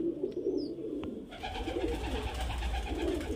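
A domestic high-flyer pigeon coos in low, throaty bursts close by, with a faint higher chirp from another bird in the background.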